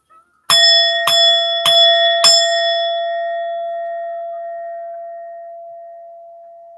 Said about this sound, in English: I'm about to ring my singing bell.